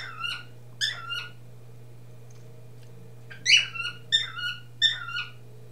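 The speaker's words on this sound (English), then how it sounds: "that bird." A bird calls loudly nearby in repeated bursts, two short call groups then a louder run of four, over a steady low electrical hum in an indoor room.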